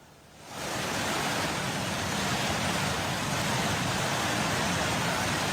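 A swift flood river current rushes through flooded West Jakarta, where a bridge collapsed. The loud, continuous roar of churning water cuts in abruptly after a short quiet start and holds steady throughout.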